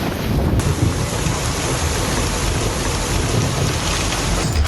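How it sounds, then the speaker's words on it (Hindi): Floodwater from the swollen Ganges river rushes past at Varanasi in a constant, dense roar, with wind buffeting the microphone and no voices present. "वहां अब सिर्फ पानी का शोर है"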